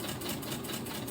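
A sewing machine stitches a quilt seam, running in a steady close mechanical whir with a fast, even needle rhythm and no pauses.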